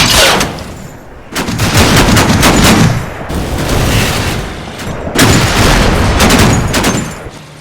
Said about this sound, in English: A combination of 50 caliber and 37mm fire halts the attack.